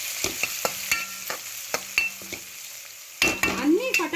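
Curry leaves and vegetables frying in a pan, with sharp clicks of a utensil stirring over a soft sizzle and a louder burst of sizzling near the end.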